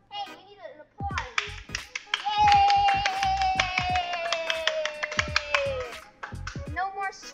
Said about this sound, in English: Hey, we need an applause.